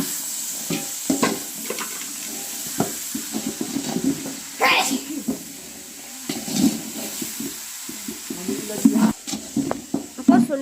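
Sundal chickpeas stirred and fried in a large pot for a temple annadhanam meal, with repeated scraping and stirring strokes over a steady sizzle while people talk nearby.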